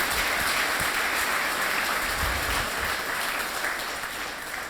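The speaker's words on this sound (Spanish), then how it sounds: "Dale un aplauso al que vive" Sustained applause from a church congregation at a Spanish-language evangelical service, dense and steady throughout, fading slightly toward the end.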